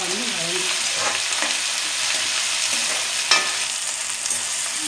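Tomatoes fry in a pan while ivy gourd masala is cooked, giving a close, steady crackling sizzle throughout with occasional stirring scrapes and no voices.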